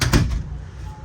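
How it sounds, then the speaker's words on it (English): A door in the back room of an RV shuts with a single short thud near the start, then quiet room tone. "And you can shut the door"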